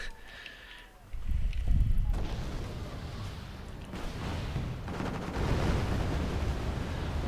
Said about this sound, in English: Artillery fire on Tunguska